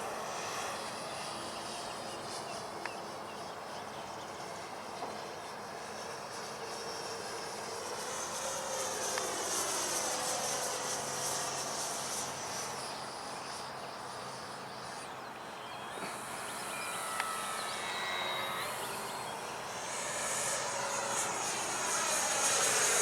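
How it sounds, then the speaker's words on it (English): An FMS Avanti 90mm EDF sport jet RC plane flies past with a high, rushing ducted-fan whine that swells and fades as it passes, heard steadily at a distance with no talking. "I just feel that it's one of the easier EDFs that I have in my hangar to land smoothly"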